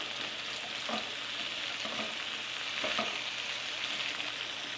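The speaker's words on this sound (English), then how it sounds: "Apples and onions are all cut up, so I'm gonna move all of these things into the pan." Chopped apples and onions going into a hot pan for a fall breakfast strata, giving a steady close frying sizzle with a few soft stirring knocks.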